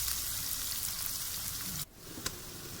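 Onions fry in hot oil in a pot for an egg curry, giving a loud, even crackling sizzle that cuts off abruptly partway through, followed by a single faint click and quieter frying.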